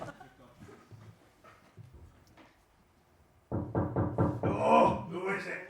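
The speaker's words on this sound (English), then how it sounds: "if there's someone at my door, can you ring it? Or knock on it?" A quick series of firm knocks on a door at a Halloween-themed party game follows several seconds of quieter talk, with voices continuing over and after the knocking.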